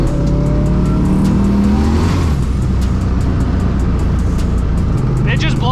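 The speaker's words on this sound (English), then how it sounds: "It just blows the tires off." Triple-turbocharged Honda Civic with a suspected exhaust leak accelerating hard through a tunnel on a cold day, engine roaring loudly and tires squealing as they spin, with a voice speaking over it.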